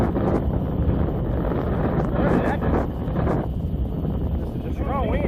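Strong mountain wind roars and buffets the microphone without letup, a thick and steady rush with gusts that surge and ease while a voice speaks beneath it.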